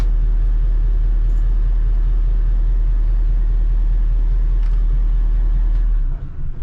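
A 1984 Nissan tractor truck engine, just back from starter service, runs with a loud, steady low rumble close by, then cuts off abruptly near the end with no talking.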